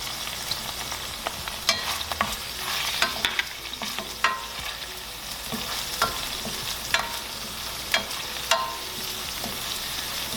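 Garlic frying over low heat in a pan for a chickpea pasta sauce, a steady soft sizzle with a few clicks and scrapes of stirring.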